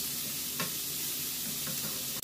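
Coconut cilantro lime rice being mixed in a hot pan, a soft continuous sizzle with a few brief scrapes of the spoon, close and steady with no voices.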